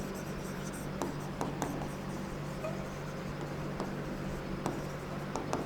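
Pen or pencil writing a name by hand during a Class 10 science lesson, a steady soft scratching with a few faint taps, close and quiet with no talk over it.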